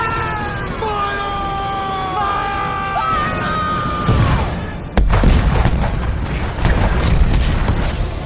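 Cannon fire in an animated children's scene: wailing, siren-like tones and shouting lead into a single heavy boom, followed by a rough, rumbling clatter.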